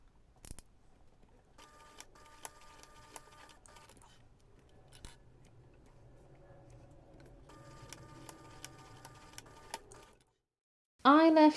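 A sewing machine stitches back and forth across a fabric pencil pouch in short runs of rapid ticking clicks separated by pauses, quiet and close, with a brief louder noise at the end.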